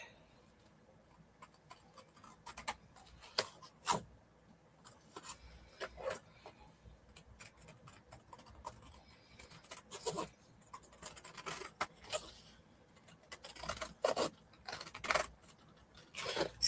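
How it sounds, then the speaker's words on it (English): Scissors or a blade cutting through cardstock in a craft session, giving scattered close snips and scraping rubs at an uneven pace, fairly quiet with no talking. "Just cut through the cardstock."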